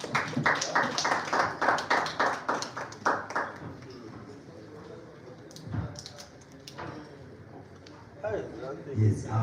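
Rhythmic clapping from a conference audience honoring a speaker at a neurology meeting in Uganda, a steady burst of claps for a few seconds that fades, followed by someone speaking over light room noise.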